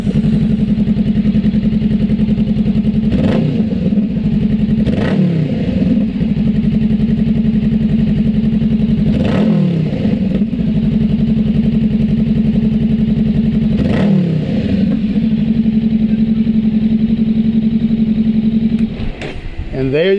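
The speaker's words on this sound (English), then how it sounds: "replacement of stock exhaust with the Coffman exhaust" A 2024 Honda Rebel 500 ABS SE fitted with a Coffman exhaust idles with a steady, loud, close putter, punctuated by four sharp throttle blips spaced a few seconds apart and another quick rev near the end.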